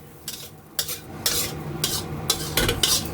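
Shrimp fried rice with salted egg yolk is scooped from a pan onto a plate in several loud, rhythmic scraping strokes of a metal spatula, with a faint sizzle beneath.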